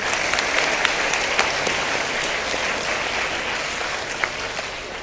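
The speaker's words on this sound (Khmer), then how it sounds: "សូមផ្ទះដៃជូនគាត់មួយណា" An audience at a talk on gratitude toward parents breaks into sustained applause, many hands clapping densely and evenly for several seconds, loud and filling the room.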